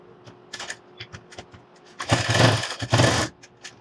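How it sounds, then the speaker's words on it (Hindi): Short, quiet runs of a sewing machine stitching piping onto a blouse, first in light taps and then in two louder bursts of steady stitching. "देखो अब सिलाई लगा के मैं आपके लिए दिखा देती हूँ।"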